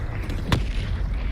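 A Confringo fire spell blast in Hogwarts Legacy lands as a single sharp, bright burst with a quick tail, standing out over a steady low background rumble of game ambience.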